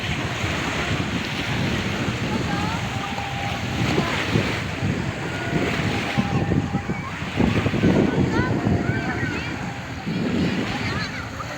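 Steady surf washes ashore with wind buffeting the microphone, while distant voices of people playing in the water are scattered throughout.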